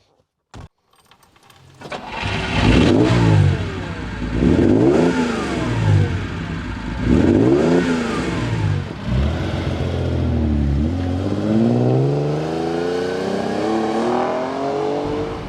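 A Fiat Dino Coupe's Ferrari V6 engine revs hard through repeated rising and falling sweeps as it accelerates and shifts gears, loud and close, ending in a sustained climbing drone.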